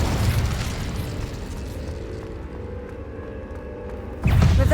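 Incendio fire spell cast in Hogwarts Legacy, a steady roaring burst of flame that sustains for several seconds before a louder whoosh flares up at the end.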